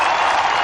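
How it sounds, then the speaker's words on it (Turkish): Crowd applause at an outdoor concert during the 9 September liberation celebrations in İzmir, a brief, loud, dense burst of massed clapping. "Bizi sizlerle buluşturan Tunç Soyer Başkanıma bir alkış alabilir miyiz?"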